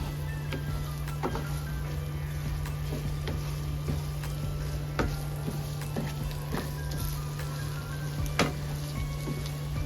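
Rice with smoked sausage toasts in a pan over medium heat, giving a steady low crackle and sizzle with a constant hum and occasional faint clicks from the pan.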